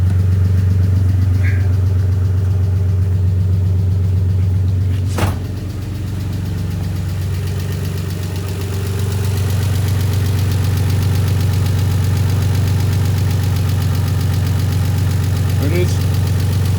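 A 1991 Nissan 300ZX engine idles with a steady low hum throughout, close and continuous, broken by a sharp click or knock near the start.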